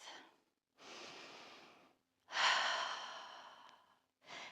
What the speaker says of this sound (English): And then take a nice breath.